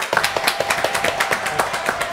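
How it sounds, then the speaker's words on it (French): Applause for a guest musician in a radio or TV studio, a rapid steady patter of many hands clapping close by for about two seconds, with no talking over it. "Ouais, on l'applaudit."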